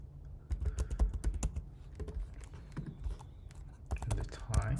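Typing on a computer keyboard, with quick irregular bursts of close key clicks and clacks, pausing briefly before starting again, while a person speaks quietly underneath.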